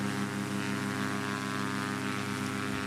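Cessna 185F Amphibian floatplane in a flight simulator at full throttle near 2850 RPM, a steady loud propeller drone with a constant engine hum, unbroken throughout.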